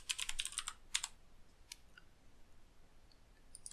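Quick clicking keystrokes on a computer keyboard while writing ZDoom ACS script code, a short flurry, a few isolated taps, then near silence. Close and fairly quiet, with no voice.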